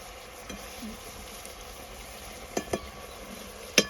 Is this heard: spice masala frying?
yes